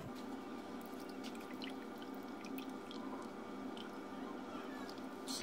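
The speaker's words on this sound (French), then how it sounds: "je vais verser mon mélange dans mon fond de tarte" Soft, faint wet squishing and dripping as a lemon curd filling made with liquid cream is poured into a pastry tart shell, close-up and steady with small intermittent splatters.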